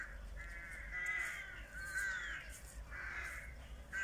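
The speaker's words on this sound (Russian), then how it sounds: "Вороны каркают" Crows caw outdoors in a few separate harsh calls, drawn out and somewhat distant, over a low steady background with no one speaking.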